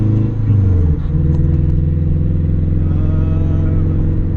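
Turbocharged Acura RSX with a stock engine, a 4-race turbo kit and a Garrett 60mm sidewinder turbo, idling loud and close with a brief rev blip near the start, then a steady rumbling drone.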